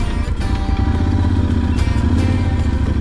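A motorcycle engine idles and rumbles close by, a loud, steady throbbing pulse with a slight mechanical clatter, as the bike rolls into an open-air motorcycle parking area on a warm, breezy day in Brazil.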